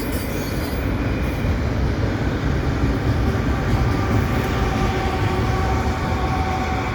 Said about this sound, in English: BNSF unit pushing the train along.